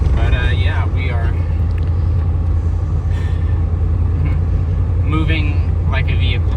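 A 1993 Ford F-150 pickup running its swapped-in Sterling engine while driving, giving a steady, loud low engine and road rumble throughout, with people talking over it.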